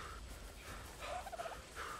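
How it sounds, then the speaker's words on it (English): A bird in the video game Ark: Survival Evolved gives a short cluster of quiet, chirping calls midway through, over a soft, steady background hum. "Oh, I can hear something chirping."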